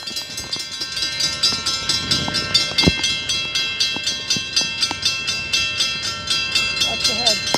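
A CSX freight train rolls through the Red Bank train station in New Jersey, its wheels beating a loud, steady, rhythmic clatter over the rail joints as the cars pass close by, with a few sharp clanks mixed in.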